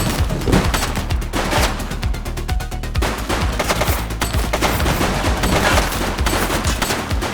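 Rapid, dense gunfire from the police video game The Precinct, with overlapping bursts and single shots crackling loudly and continuously over a rumbling game soundscape.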